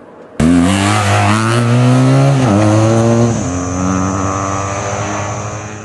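A BMW R1200GS motorcycle's liquid-cooled engine bursts to life and revs hard up close, its pitch climbing, dipping briefly, then settling into a steady, slowly fading high idle with no talking.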